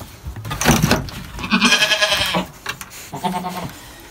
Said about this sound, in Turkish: Bunlar da oğlaklar. Bunlar nasip olursa önümüzdeki sene kurbanlık olacak bunlar.